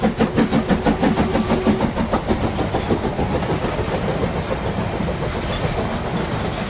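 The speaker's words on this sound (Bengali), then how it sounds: "একটা কান ফাটানো শব্দ করে আর চারিদিক কালো ধোঁয়ায় ভরিয়ে দিয়ে যে ট্রেনের জন্য সিগন্যাল ম্যান পতাকা নিয়ে দাঁড়িয়েছিলেন সেটা বেরিয়ে গেল" A steam train pulling out past a signal man in a radio drama effect, with loud rhythmic chuffing that gradually fades into a steadier rumble as it moves off.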